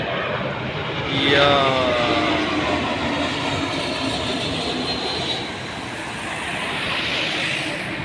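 A loud, steady airplane roar fills the whole stretch, a broad rushing drone that swells early and holds, with a faint voice underneath, heard in Germany.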